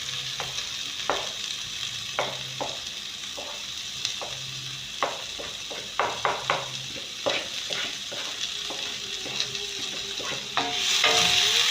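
Chopped onion sizzles steadily in a hot pan for pizza topping, with thyme and parsley stirred in; a spoon scrapes and clacks against the pan in irregular knocks over the constant frying hiss, close and alone.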